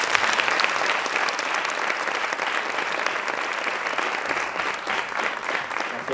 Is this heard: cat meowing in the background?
no